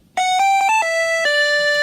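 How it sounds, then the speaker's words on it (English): Bright square-wave chiptune melody built in GarageBand for a Sonic Mania intro remake: a short run of stepped notes where one note flicks briefly upward before dropping, then a long held tone, loud and alone. "I made a really small note that sort of flicks upwards before it goes down."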